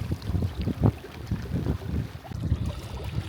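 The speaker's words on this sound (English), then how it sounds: "Wow, I feel that wind." Wind buffets the microphone during a boat trip on the Noosa Everglades, a gusty low rumble with irregular thumps and water slaps.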